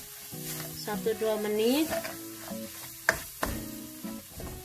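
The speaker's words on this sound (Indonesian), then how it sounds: "Oke, goreng sebentar." Chicken vindaloo frying in a pan over low heat, steady sizzle with stirring scrapes and a couple of sharp clacks, while someone talks over it.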